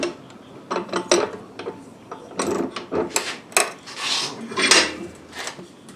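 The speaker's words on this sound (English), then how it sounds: "Okay, got it in the vise." A scrap piece of rebar being clamped in a metal vise: a run of scraping, rubbing and metallic clinks, several close rasping strokes and knocks over a few seconds with no talking.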